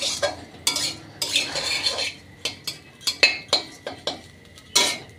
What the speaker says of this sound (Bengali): দেখো এখন আমার চিড়া ভাজা হয়ে গেছে